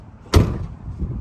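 Truck door on a 2nd gen Cummins, a single solid thunk of the door shutting close by, with a short metallic ring and low rumble fading after.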